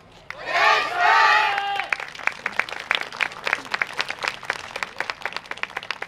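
A festival crowd cheers and claps for a yosakoi dance team at a night stage of a cherry blossom festival, a burst of loud shouting giving way to steady, dense applause.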